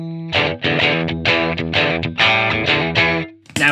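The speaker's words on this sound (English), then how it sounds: "Now with distortion." Distorted electric guitar with overwound modern humbucker pickups playing a series of chords and notes, thick and saturated, loud and continuous with short gaps between phrases.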